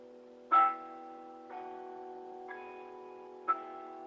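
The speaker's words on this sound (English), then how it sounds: "Oh, they got a bell going off." A clock bell in a historic hotel strikes four times at even, roughly one-second intervals, each clear metallic tone ringing on and overlapping the next, with no talk.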